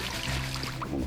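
A brief close rush of water being pumped back through a gold-mining sluice, splashing and churning for about a second without pause.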